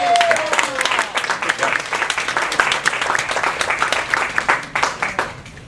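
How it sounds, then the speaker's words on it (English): Audience round of applause for an honoree at a diabetes reversal event, steady dense clapping throughout, fairly loud and close, with a brief voice at the start. "Everybody give him a big round of applause."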